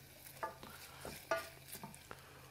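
Onions cooking in melted butter in a pan, with faint soft sizzling under several distinct stirring scrapes and clinks of a utensil against the pan, close and fairly quiet, no talking.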